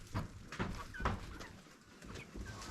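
Chickens cluck and call inside a coop, several short bird sounds at uneven intervals, fairly faint and close, with no one speaking over them.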